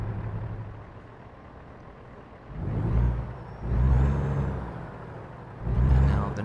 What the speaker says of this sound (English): here's a reminder of what the default truck sounds like